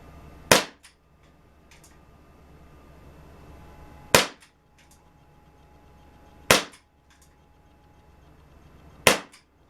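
An air pistol fires Crosman Destroyer pellets at targets in four sharp, loud cracks spaced a few seconds apart, each one decaying quickly into a quiet background.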